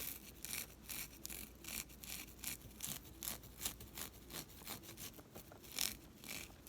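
Textured plastic items inside a bag are scratched by fingernails in quick rhythmic strokes, a soft continuous close-up rasping with no talking.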